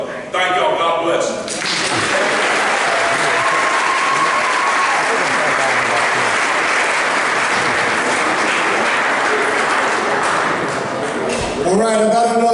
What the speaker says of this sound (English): How about a round of applause for Lieutenant Governor Mark Robinson